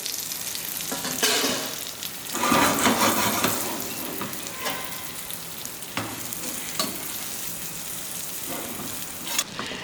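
Thin chili-powder-coated fish slices fry in hot oil, Kerala style, giving a steady loud sizzle with bursts of crackling as pieces are added and moved around.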